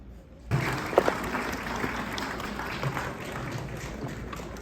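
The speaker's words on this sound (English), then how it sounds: "Can we get it again one more time? Loud round of applause for Sheikh Omar." A crowd at an Islamic lecture breaks into sustained applause, dense clapping starting suddenly and continuing steadily, with a few cheers mixed in.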